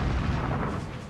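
Heavy naval gunfire from the German battleship Bismarck in a sea battle, a dense, continuous low rumbling boom that fills the whole short stretch, loud and close with no voices.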